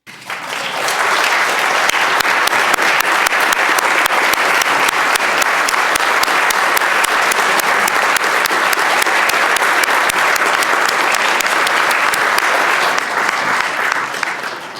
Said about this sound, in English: give the Community in Schools students a warm round of applause